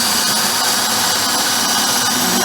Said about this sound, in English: I'm pre-drilling the holes because cedar sometimes has a tendency to want to split